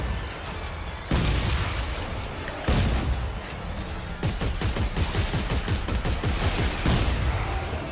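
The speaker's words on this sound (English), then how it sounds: "I'll just shoot these bots down there." Gunfire from the video game Dead Space 3 as bots are shot down, dense rapid bursts of loud automatic shots and booming blasts filling the soundscape without speech.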